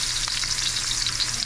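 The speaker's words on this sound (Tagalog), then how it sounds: "i-prito natin siya ng konti para lumabas ng konti yung takas ng baboy" Loud, steady sizzling of pork bones frying in a pan for caldereta, a bright crackling hiss with small pops, no voices.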